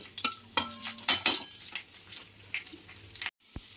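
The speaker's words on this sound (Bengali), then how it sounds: "রসুন ভেজে উঠিয়ে নেব" Garlic frying in a pan, heard as a soft sizzle under scattered clinks and scrapes of a utensil against the pan, with a brief silence before one last tap.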